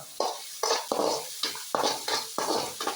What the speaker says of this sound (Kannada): ಒಂದು ದೊಡ್ಡ ಸೈಜ್ ಈರುಳ್ಳಿ ಸಣ್ಣಗೆ ಕಟ್ ಮಾಡಿ ಚೆನ್ನಾಗಿ ಫ್ರೈ ಮಾಡುವ